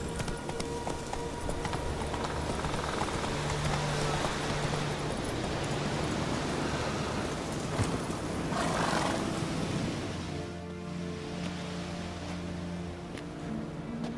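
Roach, the horse in The Witcher 3, clip-clops steadily on hooves with a rough, breathy snort, set against a dense game soundscape that thins out near the end.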